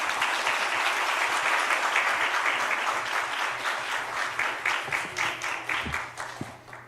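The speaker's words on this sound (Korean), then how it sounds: "우리 뜨거운 박수로 환영합니다." Church congregation applauding to welcome a pastor at a Sunday evening service, a warm sustained round of many hands that gradually thins into scattered claps as it dies away.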